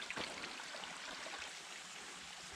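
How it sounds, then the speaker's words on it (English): A mountain creek runs below a steep, brushy off-trail ridge. Its water gives a faint, steady rushing hiss, distant and unbroken throughout, with no talking. "You can hear the water run."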